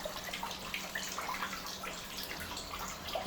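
Water drains from a washing machine's filter into a bowl, a steady trickling and splashing stream with small drips, soft and close throughout.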